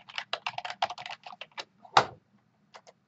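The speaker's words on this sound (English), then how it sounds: "Let me type in hurricane." Quick bursts of keystrokes clatter on a computer keyboard, close and crisp. A harder key press lands midway, then a short pause comes before a few final taps.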